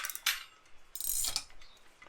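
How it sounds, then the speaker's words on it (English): Ratchet spanner being worked on the front axle of a 1971 Range Rover, giving a couple of bursts of close, rasping metallic clicking with short pauses between them, and no talking. "because you've got a nice ratchet on there"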